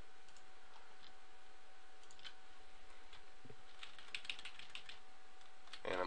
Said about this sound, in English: Nudge them over with the arrow, or with the arrow pad on your keyboard